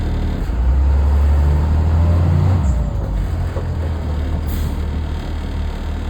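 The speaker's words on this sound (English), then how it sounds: "We're going to apply the brakes, come to a good firm stop to make sure that they're working properly" A school bus rolls forward during an air brake pre-trip test and comes to a firm stop, with a loud, steady engine rumble that surges and then settles, and no one speaking.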